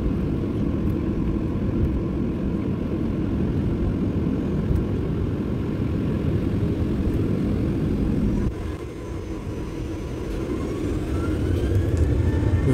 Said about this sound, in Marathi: विमानाच्या इंजिनचा आवाज आपण ऐकू शकता।